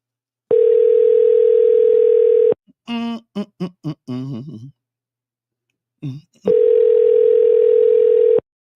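A steady telephone tone sounds loud and alone for about two seconds, then a short run of clicks and quick dialing-style beeps, a brief pause, and the same steady tone returns for two more seconds before a call reaches voicemail.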